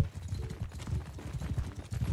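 Horse hooves clip-clop at a steady trotting rhythm in the video game Mount & Blade II: Bannerlord, quiet and continuous with faint background game sound.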